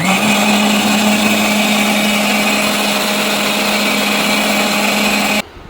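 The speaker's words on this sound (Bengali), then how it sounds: "এখন বাকি রয়েছে রসুন ব্লেন্ডার করা" A kitchen blender grinds a two-kilogram batch of garlic with a loud, steady, high-pitched whir that runs unbroken for about five seconds and then stops abruptly.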